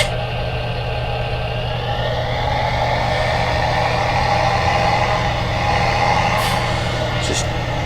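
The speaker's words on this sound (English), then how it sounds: "So I'm going to start up our tractor here." A tractor engine runs in Farming Simulator 17, a loud, continuous low drone with steady hum that persists throughout while a voice talks over it.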